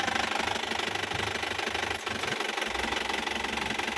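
A car engine runs steadily with a low, labored hum and faint knocking, sounding strained and continuous throughout, loaded by an added 140-amp alternator powering a home split air conditioner.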